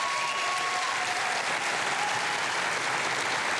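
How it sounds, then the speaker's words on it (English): A studio audience at a television panel show claps steadily and loudly throughout, a dense continuous wash of applause with no pauses. "give yourselves a round of applause"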